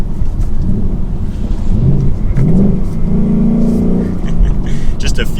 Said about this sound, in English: The exhaust is going to be opened up to the track mode as well